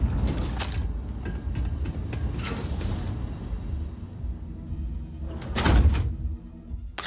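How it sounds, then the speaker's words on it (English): Sci-fi sliding door in the video game Starfield opening with mechanical whooshes and thuds, a first burst early, a second louder one near the end, over a low ambient hum with no speech. "Oh, this is the door."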